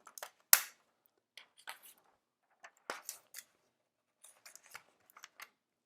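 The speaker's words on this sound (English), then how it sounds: "round the corners with our scissors" A run of crisp, close scissor snips rounding the corners of paper, coming in short irregular bursts with brief pauses between.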